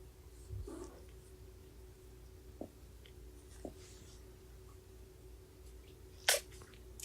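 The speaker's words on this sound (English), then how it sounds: "Did that sneeze knock you over?" A single sharp, tiny sneeze from a kitten rings out near the end, after a few soft rustles and faint squeaks in an otherwise quiet room.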